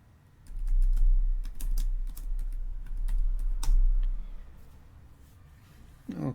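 Rapid typing on a computer keyboard while entering a password at a terminal, a run of quiet clicky keystrokes lasting several seconds, then a pause and a brief final tap.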